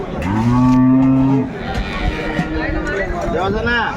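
Dairy cows and calves at a village cattle market in Dinajpur, Bangladesh, give a loud, close, drawn-out moo followed by further lowing, over a constant babble of market voices and talk.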